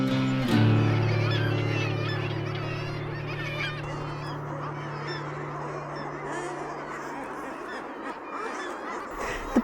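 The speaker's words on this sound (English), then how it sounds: "we could hear the crescendo of bird calls building to a level we had never heard before" A dense seabird colony on Hornøya island in Arctic Norway calls continuously, a loud layered chorus of honking, cackling cries that holds steady throughout, with no voices.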